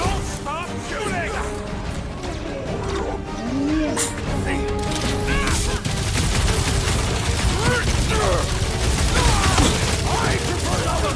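Rapid gunfire and crashing impacts from Marvel's Guardians of the Galaxy video game, loud and continuous under a dense mix of effects and music, with voices talking over it.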